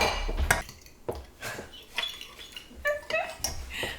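Mayonnaise ingredients stirred in a bowl, giving scattered scraping clinks of a utensil against the bowl at close range, irregular and fairly loud, with no one talking.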